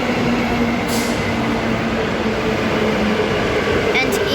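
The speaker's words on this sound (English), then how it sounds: "Not even 2 minutes later, Coburn Central service arriving and Perth service arriving." An electric multiple-unit train pulls into Murdoch station in Perth, a loud, continuous rumble and hum filling the platform throughout, with brief higher hisses from the train and a voice speaking over it.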